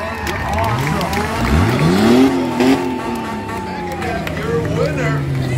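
Race cars at Beech Ridge Motor Speedway during a car wars ramp competition, engines revving and sweeping up in pitch as they accelerate past nearby, loud, with an announcer talking over the roar.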